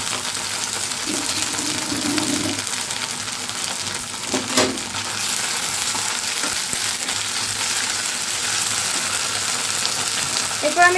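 Ginger paste and spices frying with onions over a lowered flame for an egg curry, a steady close crackling sizzle with a brief clink and stirring scrape in the middle, no talk.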